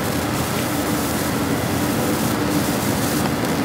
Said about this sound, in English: You can probably hear that train coming through right now.